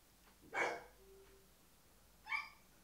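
A pet dog named Henry barks twice from the next room, each a short muffled bark about two seconds apart, faint and distant in an otherwise quiet space.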